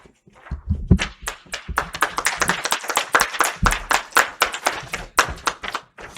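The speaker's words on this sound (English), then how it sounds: "Let's give her another round of applause" Congregation applauding at a Sunday service at the Miracle Center for Spiritual Living, a close, loud burst of sharp individual hand claps with a steady, uneven rhythm across the whole stretch, no voices over it.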